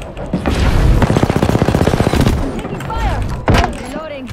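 Apex Legends gunfire: a loud, rapid burst of automatic shots in a fast, even rhythm, then scattered weapon and game effects, with a player's voice briefly in the mix.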